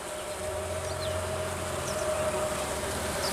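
Honey bees swarm densely over the lower section of an open hive frame, giving off a steady, close, unbroken buzzing hum that holds evenly throughout.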